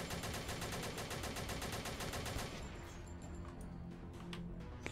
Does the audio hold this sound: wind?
no